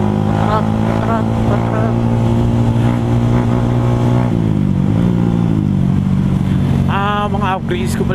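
A motorcycle fitted with an aftermarket pipe, stock tires and stock mags rides along, its loud droning exhaust steady and close, with shifts in pitch as it changes speed; a voice briefly speaks near the end.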